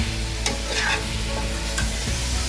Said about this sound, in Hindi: 2-3 मिनट हम इनको भूनेंगे अच्छे से।